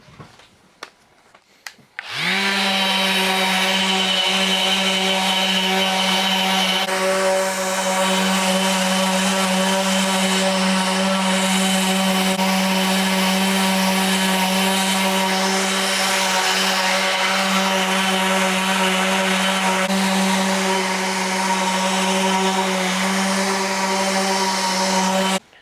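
A steady, continuous whine of a power sander runs close and loud, holding a constant buzzing tone with slight variations as it works down high points on a cured epoxy tabletop coat.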